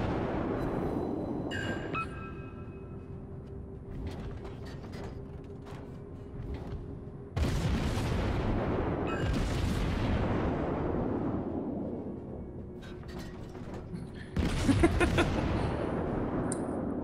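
Ship cannons, including a 3-pounder and five-pound guns, and anti-aircraft weapons fire in a naval video game, with dense, loud rolling barrages of rapid shots that swell in heavier bursts partway through and again near the end.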